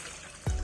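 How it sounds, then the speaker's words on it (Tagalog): Water poured into a cooking pot for brining a whole chicken, arriving as a short, close splash and gush after a moment of quiet. "So, nag-add lang po ako ng tubig."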